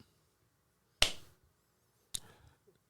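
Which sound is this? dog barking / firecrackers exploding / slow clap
slow clap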